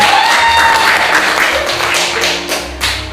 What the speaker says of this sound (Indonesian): silakan beri tepuk tangan untuk pesertanya